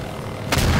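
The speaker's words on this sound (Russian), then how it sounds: "внизу взрыв какой-то мощный" A powerful explosion below a helicopter in Garry's Mod, a sudden booming blast halfway through that rolls on over steady engine noise.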